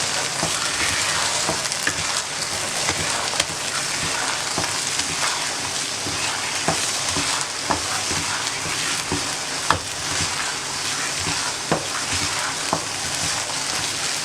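Bread halwa fries in a pan while being stirred, a steady sizzle broken by repeated soft scrapes and clicks of the spoon, close up and without talk.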